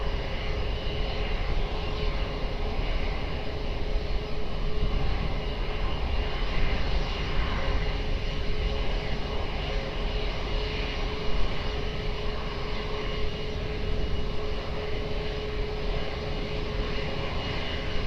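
Aircraft at Lisbon Airport, with runway 20 in use for landings, gives a loud, steady engine roar that holds unbroken for about eighteen seconds, with no voices.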